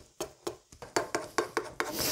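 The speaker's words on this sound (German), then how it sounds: "Dann Pfannenwender erstmal andrücken." A spatula presses grated potato rösti down into a frying pan, giving a series of about nine short scraping rasps in a steady rhythm, close and fairly quiet, with no talk.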